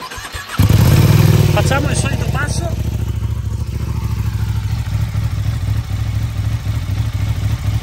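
A Ducati motorcycle with its original exhaust fires up with a sharp crank and loud catch, then settles into a throbbing, uneven idle close by, while someone talks over it.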